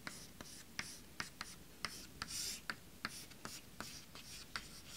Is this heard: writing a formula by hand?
yes